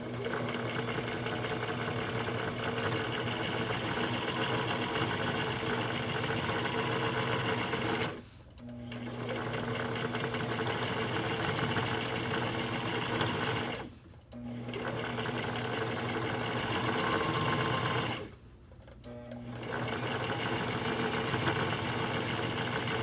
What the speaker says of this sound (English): We're going to sew the side seam down.